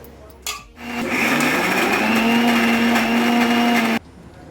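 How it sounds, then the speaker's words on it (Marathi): A mixer grinder whirs loudly while grinding soaked urad dal with a little water for vadas. It starts with a short clatter, then holds a steady high motor drone for about three seconds before cutting off abruptly. "आता आपण याला मिक्सरमधून वाटून घेऊया"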